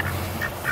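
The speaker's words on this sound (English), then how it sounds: "Here's also the 3 ducks." Ducks on a small farm give a few short nasal quacks in quick succession, fairly close and clear over a steady outdoor background.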